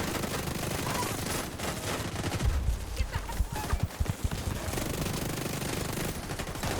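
Bursts of automatic gunfire and explosions rattle continuously through a shooter-game firefight in Division 2, dense and loud throughout with thumping impacts mixed in.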